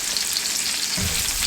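Onions frying in a pan with a little salt and pepper, a close, steady sizzle with a soft stir or shift partway through, no voices.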